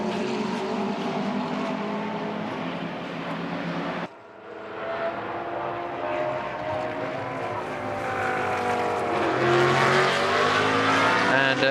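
GT race cars lapping during Blancpain Sprint Series free practice at Moscow, engines roaring loudly and continuously with rising pitch as cars pass near, a short dip midway, no talk.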